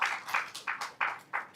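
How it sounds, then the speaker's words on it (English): Audience applause for a panelist at an emergency medicine conference, heard as a few soft, distant bursts of clapping that rise and fall in short waves, fairly faint. "Please give him a big applause"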